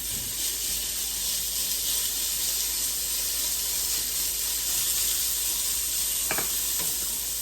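Hash browns sizzle in a pan with a steady, close hiss throughout and a brief scrape or stir near the end, no voices.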